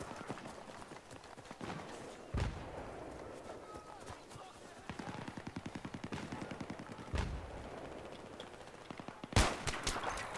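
Gunfire in the Battlefield 3 multiplayer Operation Metro Rush map: a few sharp single shots and a steady run of rapid automatic fire over busy game noise, with voices talking throughout.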